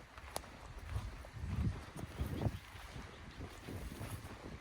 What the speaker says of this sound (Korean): 바람이 이래 쌩쌩 불지